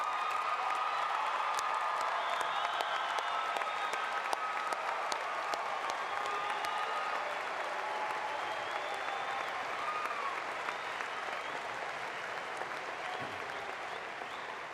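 A university commencement audience applauds graduates with distinction, sustained dense clapping from a large crowd in a big hall, steady and somewhat distant, with occasional faint cheers and whoops mixed in.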